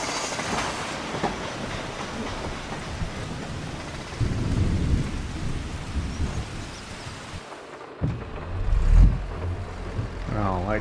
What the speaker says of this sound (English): I think the rain just started.